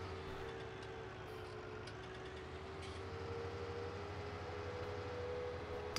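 A tractor fitted with dual wheels idles in Farming Simulator 19, a steady low engine drone with a faint hum, continuous and fairly quiet.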